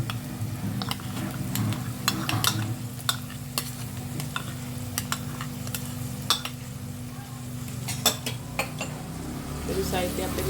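Spinach paste is mixed into a pan with oil and spices for palak pulao, a low sizzle under irregular metallic clinks and scrapes of a spoon against the pan, close, with a faint background hum.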